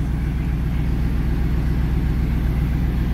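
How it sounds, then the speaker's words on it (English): A stock 1997 Chevrolet Camaro SS 30th Anniversary Edition idles near its rear with a steady, loud, low rumble and even pulsing throughout, with no talk. "Around to the back so you can hear it run."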